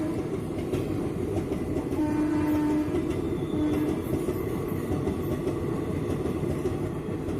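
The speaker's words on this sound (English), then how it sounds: "An empty racks is shunted by Wagner locomotive in Chennai Central Arkonam section." A WAG 9 electric locomotive shunts an empty rake near Chennai Central, giving a steady rumble of rolling stock with a short horn tone partway through, heard continuously up close.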